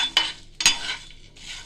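Spices frying in a pan for a pepper masala chicken curry, two sharp clinks of a spoon against the pan over a soft, steady sizzle.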